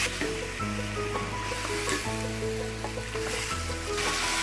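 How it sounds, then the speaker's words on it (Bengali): Chicken and vegetables sizzle in a hot pan while being stir-fried for a Bangladeshi Chinese restaurant-style dish, a steady hiss broken by periodic clanks and scrapes of stirring. "এবার সব কিছু নেড়ে ভালোভাবে মিশিয়ে দিচ্ছি"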